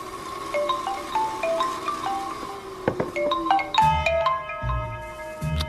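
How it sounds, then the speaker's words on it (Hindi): A phone ringtone plays a repeating melodic tone pattern, loud and close, with a few low thumps underneath and no talking. "अरे यार, ये अभी क्यों फोन लगा रहा है?"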